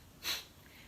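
A single short, sharp nasal exhale sniff from Kundalini Shabd Kriya breathing, close and fairly quiet, with no talking.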